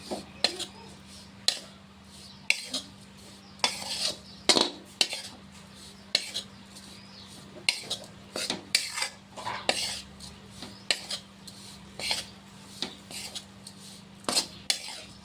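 A metal spoon scrapes and taps against a pan while flour roasts in desi ghee for mohanthal, giving irregular clinks and scrapes every second or so over a faint steady hum, with no voices.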